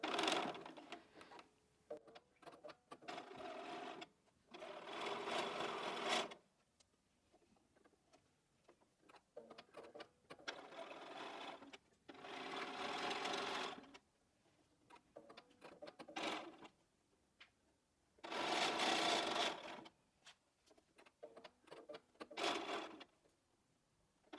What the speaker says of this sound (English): take them to the machine and sew